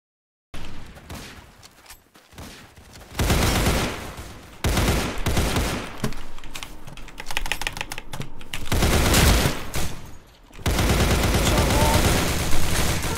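Video game gunfire shooting through walls, with loud bursts of rapid shots separated by short quiet gaps, repeating over the whole stretch.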